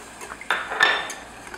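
A utensil stirs sauce in a pan, giving a few soft metallic scrapes and clinks close by, with one sharper scrape in the middle and quiet room tone between.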